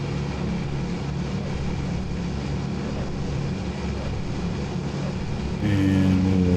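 Consolidated PBY flying boat engines roaring at full takeoff throttle in Microsoft Flight Simulator 2020, a loud steady droning rumble that swells slightly louder near the end, with no talking.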